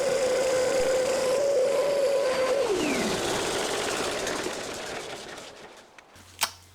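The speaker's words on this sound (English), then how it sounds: "I refine the shape on the belt sander" A belt sander refining the shape of a small wooden gift piece, a steady motor whine that drops and winds down partway through, then fades into quieter workshop noise with a sharp knock near the end.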